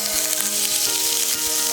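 Butter heating in a pan on the stove for Thai soup, giving a steady close sizzle and crackle throughout with a low hum underneath, no voices.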